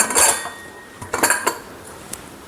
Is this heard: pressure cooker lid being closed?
yes